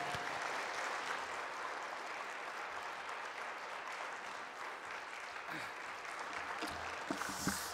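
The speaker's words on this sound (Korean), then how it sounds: "우리 목사님 나오실 때 큰 박수로 모시겠습니다." Church congregation at a Sunday worship service giving a big round of applause as the pastor comes out, a continuous, moderately distant wash of clapping with a few louder claps and faint voices near the end.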